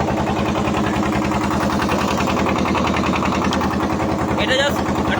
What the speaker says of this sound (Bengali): বোট চলছে, চলতে চলতেই শুট হচ্ছে।